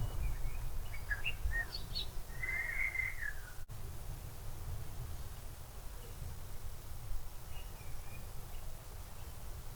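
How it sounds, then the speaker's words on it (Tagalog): Several birds chirp and trill outdoors at a middle distance, a short burst of calls early on, then sparse faint chirps over a steady low rumble and insect-like hiss. "Daming ibon."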